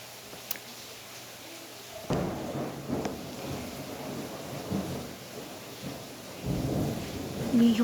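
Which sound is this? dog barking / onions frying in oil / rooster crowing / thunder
thunder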